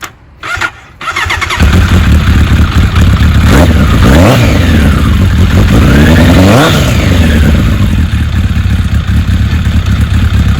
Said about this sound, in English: This is what the pipe sounds like.